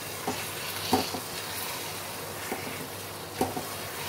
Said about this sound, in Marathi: हा असा हळूहळू टाकत जायचा आणि मिक्स करत जायचं.